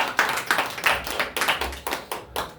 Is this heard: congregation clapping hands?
yes